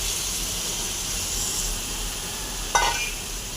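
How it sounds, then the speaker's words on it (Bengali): Spice paste for fish pulusu sizzles and hisses steadily in a hot pan, a constant close frying sound with one brief louder crackle or stir near the end. "মশলাটা ভালো করে কষিয়ে নেব।"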